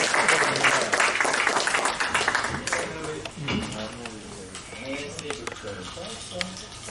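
A seated audience at a panel talk on Africa and Pan-Africanism claps loudly, then the applause thins, and someone speaks over the fading clapping.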